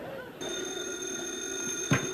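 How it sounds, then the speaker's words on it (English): A telephone bell rings in an indoor room, a steady electric ring lasting about two seconds at moderate loudness, with a short sharp knock near the end. "That's the phone. That's the phone."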